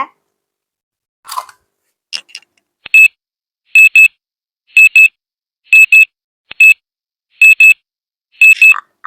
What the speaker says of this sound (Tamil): அலாரம் அடிச்சுக்கிட்டே இருக்குது